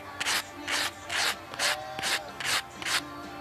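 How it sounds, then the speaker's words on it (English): Sandpaper rubs black patina off a silver coin ring in seven even, rhythmic strokes, close and fairly quiet with no talking. "Sand that black off of there."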